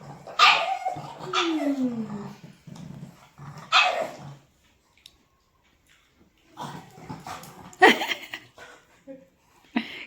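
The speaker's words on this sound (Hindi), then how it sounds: "ये पीछे से इतना भौंक रही है ना" A dog barks in repeated bursts, fairly close, with a voice speaking between and over the barks, then a pause before more barking.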